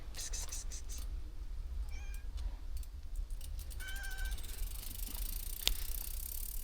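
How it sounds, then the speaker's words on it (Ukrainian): A cat on a small bridge in a park in Korosten gives a few short meows outdoors over a steady background hum, with a brief click partway through. "Ось тут нас на місточку зустрічає такий котик."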